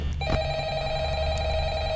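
A phone rings with a steady electronic trill in the Five Nights at Freddy's horror game, heard alone at moderate loudness over a low background hum.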